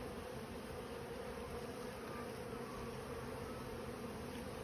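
Honey bees droning during a beehive inspection, a continuous faint even hum of many insects throughout with no speech.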